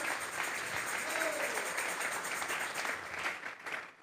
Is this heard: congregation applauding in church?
yes